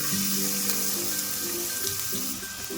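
A large onion fries in oil with a continuous loud, close sizzle and hiss. The sound holds steady throughout with no talking.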